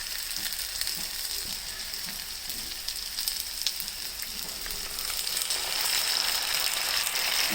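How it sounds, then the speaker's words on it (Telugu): Tamarind pulusu gravy hits punugulu frying in a pan, and a steady hissing sizzle follows that grows louder and fuller toward the end. "ఈ టైంలో పులుసు పోసుకోవాలి."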